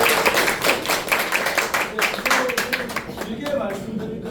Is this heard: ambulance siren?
no